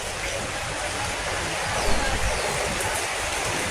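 Swift floodwater rushes through a flooded area in Malaysia during a flood emergency, a steady, dense broadband roar filling the whole stretch with a slight surge midway, continuous and close.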